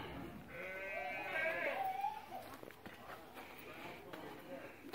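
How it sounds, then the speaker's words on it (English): Goats bleat on an old farm, a couple of wavering calls close by in the first two seconds, with a voice speaking over the rest. "There's the goats."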